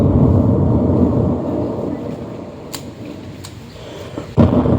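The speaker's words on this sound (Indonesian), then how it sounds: "Ahmad juga melihat di luar jendela kelasnya Ahmad petir yang bersambar kemana-mana." A thunderstorm sound effect with loud, low rumbling thunder rolling throughout, a few sharp crackles, and a sudden heavy boom near the end.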